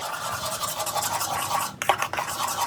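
Semolina batter being beaten in a bowl, heard as close, quick scraping and stirring strokes in a busy, repetitive rhythm, with brief light clinks against the bowl and no speech.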